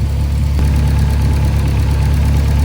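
Honda K24 engine idling after a jam nut adjustment on its throttle setup, a steady low rumble with a faint mechanical knock throughout, close and continuous with no talk.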